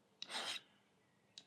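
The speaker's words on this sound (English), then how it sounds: "File each of the 4 sides to the pyramid like this" A flat file rasps across the sides of a steel pyramid point in a short forward stroke, quiet and close, with the start of another stroke following after a brief pause.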